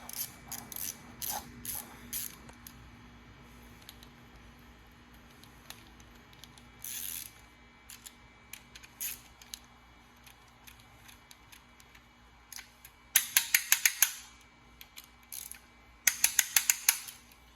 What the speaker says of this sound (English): So these are also torqued down to 10 Newton meters.